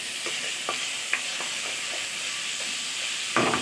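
Garlic paste and salt hitting hot oil, a steady hiss of frying with a string of light stirring taps, then a louder burst of sizzle at the end.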